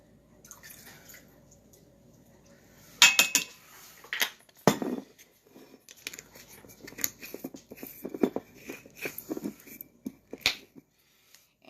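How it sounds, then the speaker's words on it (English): Metal measuring spoons clicking and clinking together in a kitchen, a series of bright light taps and rattles of irregular rhythm, close and fairly quiet, with a few sharper knocks. "all of the spoons click together as a set"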